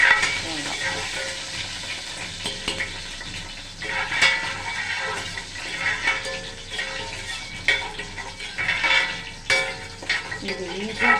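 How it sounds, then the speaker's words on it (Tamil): Mustard seeds, chana dal, urad dal, curry leaves and onion fry in hot oil for a snake gourd kootu, a continuous crackling sizzle with occasional stirring scrapes, close up and moderately loud. "கடுகு, கடலைப்பருப்பு, உளுந்தம்பருப்பு நல்லா இதானதுக்கப்புறம் கோல்டன் ப்ரௌன் கலர் வந்ததும்"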